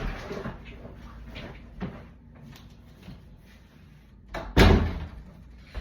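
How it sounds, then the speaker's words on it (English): A door in a home room is pushed shut and lands with one sharp, loud thud near the end, preceded by quieter shuffling and handling sounds, with no talking. "I'm just going to close my door here."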